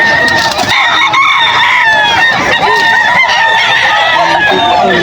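An 18-month-old bullstag rooster crows and clucks amid other fowl at the Bocaue pet market, loud and close, with overlapping calls and a busy background of birds and a murmuring crowd.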